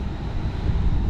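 Steady low wind buffeting roars across a microphone near the sea, a dense rumbling gust with no voices, lasting about a second.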